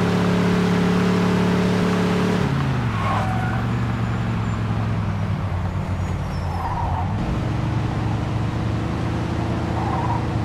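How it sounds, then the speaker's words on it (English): A 1940s-style car engine in Mafia II: Definitive Edition revs up hard, drops as it shifts gear, then climbs again, loud and close with a steady droning tone and no talking. "Hey, take it easy on the gas pedal."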